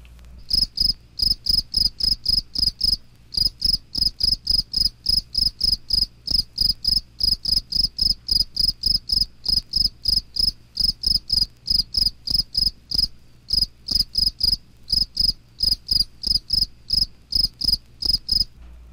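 A field cricket sings on the ground, repeating loud, close chirps in a steady, even rhythm of about two per second with only brief pauses, alone and without other sounds.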